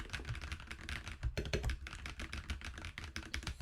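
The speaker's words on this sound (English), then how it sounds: "I got a Halo 65 keyboard with some, I think it's called Purple Horizon keycaps. Here's how it sounds like" Mechanical keyboard typing on a Halo 65 fitted with Purple Horizon keycaps: a steady, close run of crisp clacky keystrokes with quick irregular rhythm, heard alone.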